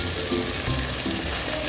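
Ground onion and green chili masala fries in hot oil in a home kitchen, giving a steady close sizzle with occasional bubbling pops and no speech.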